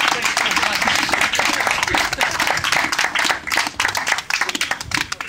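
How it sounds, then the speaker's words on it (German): Outdoor crowd applause at an anti-AfD demonstration in front of Charlottenburg town hall, loud dense clapping with some voices mixed in, continuous and thinning slightly toward the end. "Ja, bitte, ein Applaus für die Initiative"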